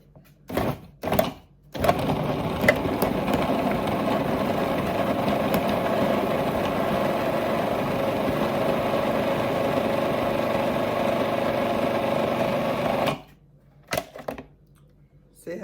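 An electric mixer working shortbread dough of butter and flour, a steady close whirring drone running for about eleven seconds between brief clatters and handling noises at the start and end.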